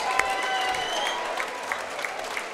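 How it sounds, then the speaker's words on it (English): A crowd at a combat-sports fight event applauds both fighters, a steady wash of clapping with some cheering, moderately loud and continuous without speech over it. "can we please have a big round of applause for both of our"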